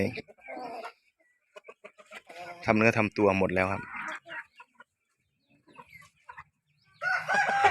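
Young roosters, four to six months old, crow and cluck at feeding time in the evening, their loud crows standing out near the mic with someone speaking before and after.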